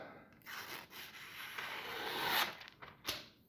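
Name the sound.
Benchmade knife cutting during a cutting test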